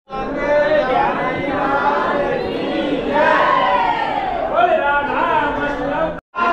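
Dense crowd packing the temple lanes of Vrindavan, a loud continuous wash of overlapping chatter and calls close around, with no clear single voice standing out.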